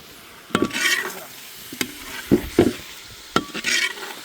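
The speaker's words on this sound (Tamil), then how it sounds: "இப்போ வந்து அவிச்ச முட்டையை பீஸ் பண்ணி வச்சுருக்கோம் அதை கொண்டு பீஸாமாவை கொண்டு கொட்டுறோம்" Pieces of boiled egg are tipped into a pan of thick tomato masala and stirred for an egg cake thokku. A spoon scrapes and clacks against the pan in several separate bursts over a soft sizzle.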